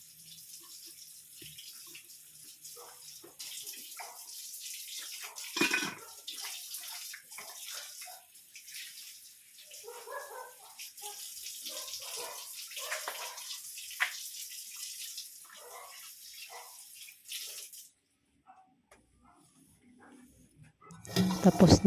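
Water runs from a kitchen sink tap in a simple home during washing up, a soft continuous splashing with clinks of dishes, fairly faint and close, stopping near the end, while someone talks over it.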